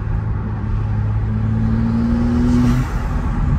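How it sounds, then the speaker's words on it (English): A BMW M3 Competition with the S58 engine and a single midpipe exhaust, heard close and loud as a deep droning rumble that rises in pitch under acceleration, then eases off, with no talking. "and now you can actually hear the exhaust."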